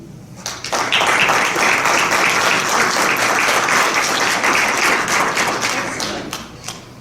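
Following a talk by Sister Cortés at a session on the Latin American Catholic diaspora, an audience breaks into loud, sustained clapping that swells quickly, holds for several seconds, then tapers off.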